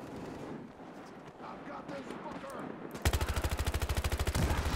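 Rapid automatic gunfire from a Battlefield Hardline multiplayer match, a fast burst of evenly spaced shots that begins abruptly after a stretch of quieter game ambience and gameplay chatter.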